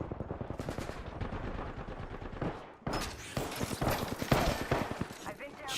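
Rapid automatic gunfire from a video game shooter, dense bursts of shots running almost continuously at close range, mixed with in-game sounds while a player talks over it.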